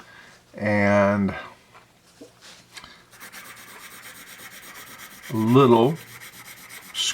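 A vintage Stanley Home Products ordering pencil, graphite like a number 2, scratches on paper in a steady soft rasp between two bursts of nearby speech.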